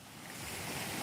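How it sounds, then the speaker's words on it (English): Ocean surf rolls as a steady broad wash of breaking waves, constant and fairly loud with a hint of wind, no voices over it. "Some people like the sound of waves, some people don't."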